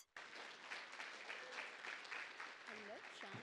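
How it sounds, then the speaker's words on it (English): Audience applause at a landlord lunch-and-learn event, a moderate, even patter of clapping from a seated crowd, with a voice starting to speak near the end. "Please, a round of applause."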